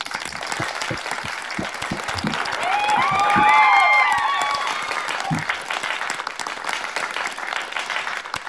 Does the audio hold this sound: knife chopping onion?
no